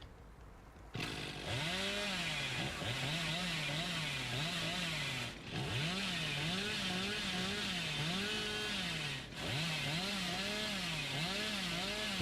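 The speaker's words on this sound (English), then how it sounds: "My chainsaw is literally worthless." In the video game Dead by Daylight, a chainsaw revs in a continuous rising and falling whine, cutting off twice for a moment before starting up again, with no talking.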